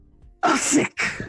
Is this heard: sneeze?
yes